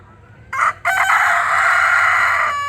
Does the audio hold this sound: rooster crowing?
yes